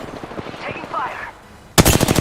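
Rapid bursts of automatic gunfire in a round-based tactical shooter video game, first fainter and mixed with other game sounds, then a loud, close string of sharp shots at the end.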